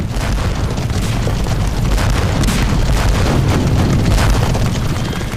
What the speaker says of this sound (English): For a whole mile, the British cavalrymen ran a gauntlet of cannon fire.